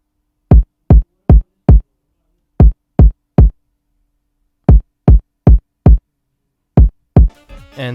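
Rat kick drum for a hip-hop type beat verse: eleven punchy, booming kick hits in short groups of three or four, dry and loud, with a brief burst of noisy texture at the very end.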